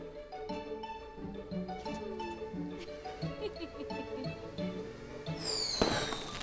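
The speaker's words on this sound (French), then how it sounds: "Les feux d'artifice font des bruits forts." Cartoon fireworks whistle upward and burst, with bright musical accompaniment underneath and a rising squealing whoosh near the end, moderately loud and continuous throughout.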